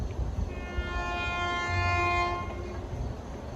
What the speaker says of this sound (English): approaching the Broadway crossing in Bethpage at 5:10 is train 9959